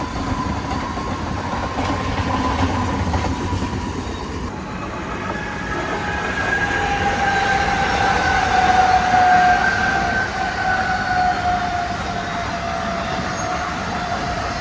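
A freight train hauled by twin WAG5 locomotives from the Bhusaval shed rumbles past on the Mumbai route: a steady, loud rolling roar with a sustained tonal whine rising through the middle, and no voices.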